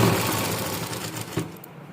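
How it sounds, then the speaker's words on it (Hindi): A sewing machine stitches elastic into a dhoti-style salwar, a dense, fast mechanical whirr running loud and close before easing off near the end, with no voices. "तब हम इसे इस तरह खींचकर सिलाई कर सकते हैं।"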